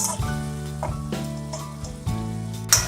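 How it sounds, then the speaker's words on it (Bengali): Onions fry in hot oil with mustard seeds in a home kitchen pan while aloo poha is being made, giving a continuous close sizzle with occasional crackles over soft background music. "পেঁয়াজটা হালকা সোনালি করে ভাজতে হবে।"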